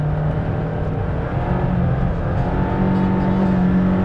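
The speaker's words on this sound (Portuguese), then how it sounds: "completa aqui o ramalhete com este escape atrás, que fica mais comportado, tem voz grossa" Suzuki Swift GTi from the 1980s–90s with a rear exhaust giving a deep, throaty note, pulling uphill in second gear; a steady, continuous engine drone heard close and loud throughout, with no talking.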